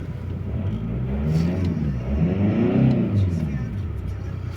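A 2.0 TDI Audi A6 diesel with power loss and black smoke, accelerating at full throttle from inside the cabin, its engine drone swelling in two surges, close and fairly loud.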